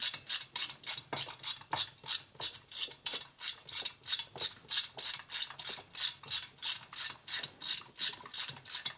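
A hand ratchet tightens the head bolts on a Harley-Davidson shovelhead engine, giving a fast, steady run of about twenty-five clicking strokes, each a quick burst of pawl clicks, close and continuous with no talking.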